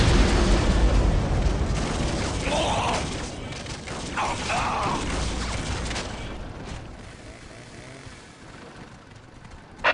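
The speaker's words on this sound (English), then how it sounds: "Preparing whirlwind missile battery to fire." Whirlwind missile battery firing in a Warhammer real-time strategy game: a loud roaring rush of launches and booming impacts that fades slowly over several seconds, with no talking.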